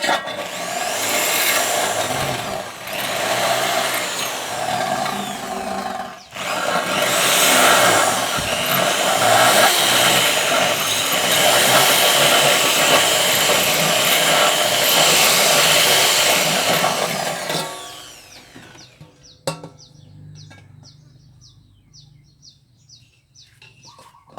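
Power screwdriver driving screws while building a budget lid for a Thai khanom krok pan, a loud continuous whirring drone for about eighteen seconds with a short break, then stopping to quiet clicks and faint taps.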